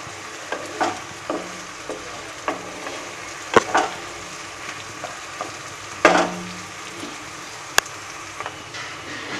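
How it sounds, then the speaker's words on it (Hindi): Ginger garlic paste fries with onions in a pan for a Navratan biryani, giving a low steady sizzle broken by scraping stirs and a few sharp clanks of the spoon, with no talking. "अभी हम इसमें जिंजर और गार्लिक का पेस्ट मिला देंगे और इसे बहुत ही अच्छी तरह से फ्राई कर लेंगे"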